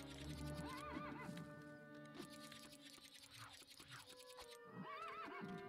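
Horse in the Lego Indiana Jones 2 video game giving two loud whinnies, early and near the end, over galloping clip-clop hooves and tinkling game music.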